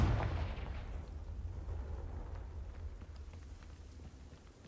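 Confringo blasting spell in Hogwarts Legacy, a heavy explosive boom that opens the sound and rolls into a long, dense low rumble, slowly fading with no talking over it.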